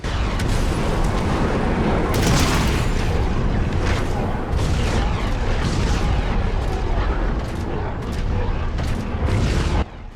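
Firestorm turrets firing in Mechwarrior 5: Mercenaries make continuous heavy booming and blasting, a dense loud barrage with sharper bursts throughout; a voice is faintly present.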